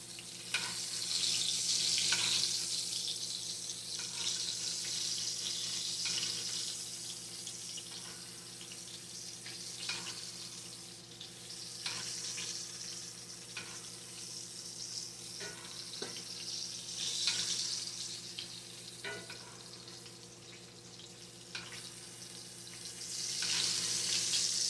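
Cheap hamburger steak frying in its own rendered grease in a pan, a steady loud sizzle and crackle running the whole time with scattered pops and faint utensil scrapes, no talking.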